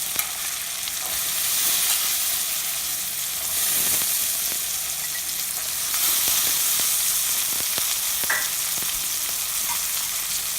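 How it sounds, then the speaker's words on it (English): Cauliflower and boiled peas frying in a pan give a steady, close hiss and sizzle with occasional light clicks of stirring, even in level and free of voices. "Fry for a minute."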